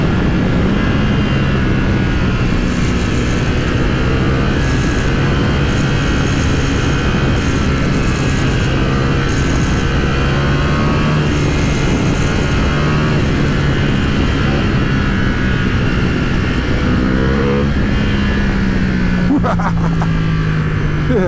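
A Ducati Panigale V4R motorcycle ridden along country roads, its engine droning steadily and loud throughout with gear-shift pitch changes and heavy wind rush, close up from the rider's position.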